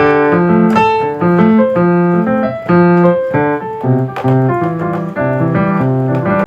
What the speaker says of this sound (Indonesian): Nah, itu suara piano bawaan.